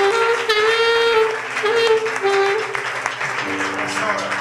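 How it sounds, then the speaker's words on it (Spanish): Church congregation applauding during a service, broadband clapping that rises under and around louder voices and sustained musical or vocal tones, with people talking over it throughout. "No, hermano, denle un aplauso a Jesús por eso."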